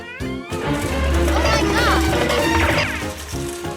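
A LEGO tower topples and crashes after being bumped by a passing cart, a loud clattering smash rising under energetic cartoon voices and music, with scattered pieces tumbling briefly.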